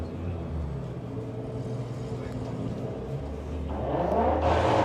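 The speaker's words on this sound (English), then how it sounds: "Listen out to the sound of this beautiful Volvo engine." A Volvo-engined drag racing car drones steadily and then revs hard near the end, growing louder as it picks up speed, with some talk faintly underneath.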